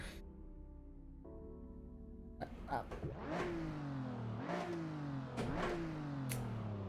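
A Toyota Camry engine in the Assetto Corsa driving game idles steadily, then is revved repeatedly, each blip sharply rising in pitch and falling back, about four loud close revs in a row.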